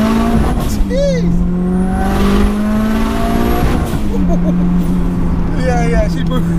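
A raw 550bhp 2.3 stroker Mitsubishi Evo 6 accelerates hard with its screamer pipe open, the loud engine note climbing and dropping through gear changes while voices exclaim over it.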